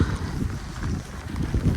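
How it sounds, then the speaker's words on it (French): Wind gusts in a low, rumbling rush through a deep mountain valley, rising and falling in short surges, with a little rain. "Vallée profonde, vent, un peu de pluie, ambiance montagnarde."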